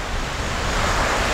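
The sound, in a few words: strong wind at a beach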